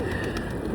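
Pigeons coo nearby in a short, steady low warble, fairly loud and close with light ambient hum behind it.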